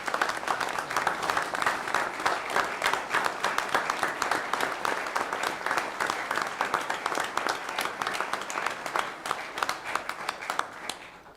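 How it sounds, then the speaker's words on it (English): Sustained clapping from an audience at a county commission meeting, a dense, even round of applause lasting throughout and fading at the very end. "let's give them another big round of applause."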